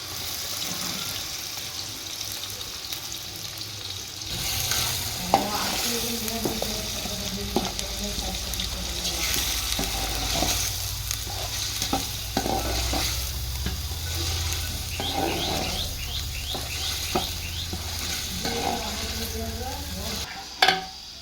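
Ground masala for a mutton biryani sizzles and fries in a pot while being stirred, with steady frying hiss and intermittent scraping clatters throughout, no talking.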